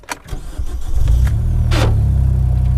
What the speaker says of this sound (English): Let's do the first start up and